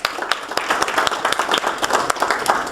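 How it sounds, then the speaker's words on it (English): An audience claps for a woman named Candy at a workshop session, a short burst of scattered, uneven handclaps from a small group, moderately loud and fairly close. "Give Candy a round of applause for that."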